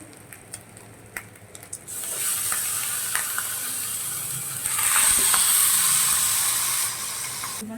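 Marinated chicken dropped into a pan over garlic and ginger already fried for Hyderabadi biryani, with a loud, steady sizzle that swells as the meat goes in and settles into hot frying, a few clinks early on.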